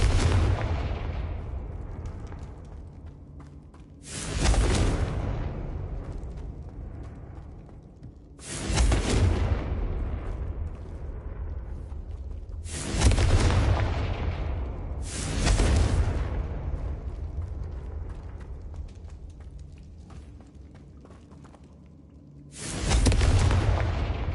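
Fiery Confringo spell blasts in the video game Hogwarts Legacy: five heavy booming explosions spaced several seconds apart, each with a long rumbling decay, loud and without any talking.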